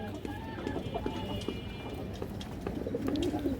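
A female pigeon coos amid a bird collection, soft, repeated low calls mixed with other birds and general chatter in the background.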